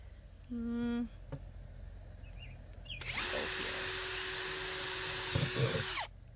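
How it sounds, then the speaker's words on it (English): After a brief faint whirr, a power drill bores loudly into a plastic 5-gallon food-grade bucket for about three seconds, ending in a rough grinding catch as it pushes through. "You see that drill bit likes to travel a little bit"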